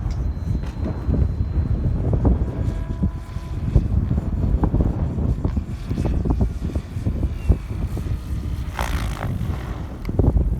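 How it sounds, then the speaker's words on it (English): Wind buffeting a helicopter during autorotation flight, heard as a dense, rumbling low roar that stays steady and loud throughout the cabin with small gusting variations and no talking. "That wind's pushing me."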